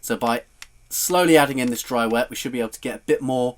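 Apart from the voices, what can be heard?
No everyday noise stands out behind the speech.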